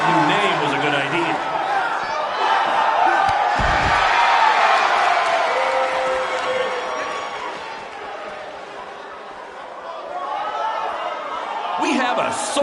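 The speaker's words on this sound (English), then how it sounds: "We have a sold-out, record-setting crowd here for BCW tonight." Crowd of a sold-out wrestling arena in a WWE 2K game cheers and chatters, a loud steady roar that swells and dips throughout, with brief slam-like thuds and talk over it.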